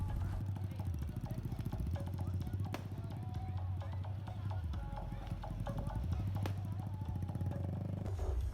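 Motorcycle riding through a village during a takbiran procession on the eve of Lebaran, with a steady engine drone and clattering road noise running continuously and loudly throughout.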